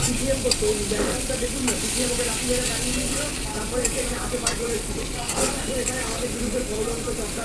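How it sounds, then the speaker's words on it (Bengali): Large shrimp frying in a pan, a steady close sizzle with scattered pops and crackles and occasional stirring scrapes throughout. "চিংড়ি মাছগুলোকে আমি এখন ভেজে নিচ্ছি"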